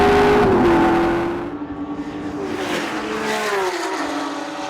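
A Ford Falcon race car built in Christchurch for a 3-hour endurance race, its engine droning loud and close with a rising and falling pitch as it accelerates, backs off and pulls again.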